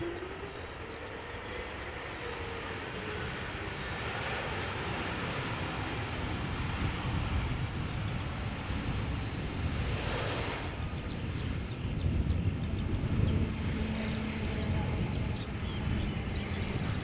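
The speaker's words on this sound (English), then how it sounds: "E2 Embraer 195 from KLM arriving from Berlin." A KLM Embraer E195-E2 airliner arriving from Berlin lands at Amsterdam Schiphol in a crosswind, heard as a steady, distant broadband roar with wind buffeting the microphone throughout.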